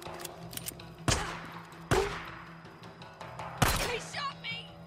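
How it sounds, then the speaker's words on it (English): Gunshots in the Days Gone video game, three sharp loud cracks spaced about a second apart over a low ambient hum, followed by faint game sounds. "He shot me!"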